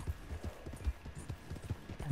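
Horse hooves clip-clopping in Red Dead Redemption 2, in a quick, uneven rhythm, moderately close and fairly quiet, with no voices.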